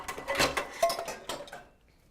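A sauté pan set over a pot as a makeshift lid while bean chili cooks, a few close metallic clanks and scrapes of cookware in quick succession, then quiet.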